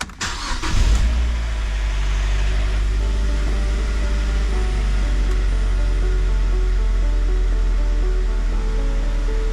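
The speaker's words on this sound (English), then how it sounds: "So now it's time for the first startup." A 2013 Mazda MX-5 NC GT with a power retractable hardtop cranks and fires up after an oil change, then settles into a loud, steady idle that runs on with no one talking.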